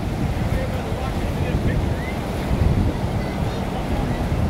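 Ocean waves at Dana Harbor make a continuous washing surf roar, with wind buffeting the microphone throughout.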